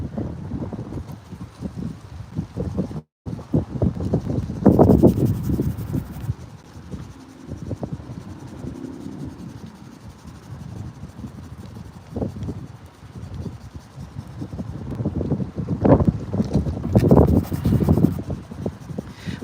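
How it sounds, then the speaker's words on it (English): Strong, relentless wind buffets an outdoor microphone in gusty surges, roaring loudly, easing off in the middle and then building again, with one brief dropout. "This wind is relentless."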